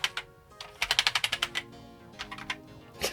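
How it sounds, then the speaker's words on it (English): Typing on a repaired Amiga 600 keyboard gives sharp, close key clicks, with a quick run of about ten strokes in the middle and a few scattered presses before and after. "let's test the keyboard again first"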